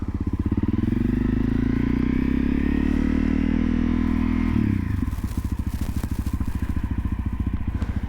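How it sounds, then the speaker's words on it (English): A 2017 Honda CRF 250L 250cc dual-sport motorcycle on knobby tires runs with a close, steady single-cylinder engine drone. About midway the clutch releases quickly and the pitch drops into a rougher, pulsing chug. "2017 CRF 250L. As you can tell, like, how quickly that that clutch releases."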